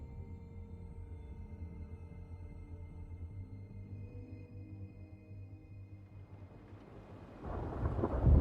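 Steady rain and low rumbling thunder in The Wolf Among Us, a continuous wash of storm noise that swells into a louder, nearer burst near the end.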